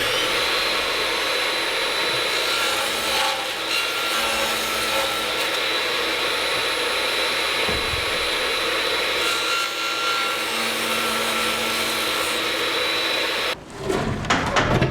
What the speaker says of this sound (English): I'm going to use a table saw just to cut these corners out